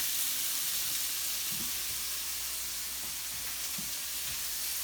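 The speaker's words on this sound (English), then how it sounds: "hear that sizzle, that means it's nice and hot" Sausage browning in a hot pan over medium heat gives off a steady, moderately loud sizzle and crackle, with a few soft pops and no talking.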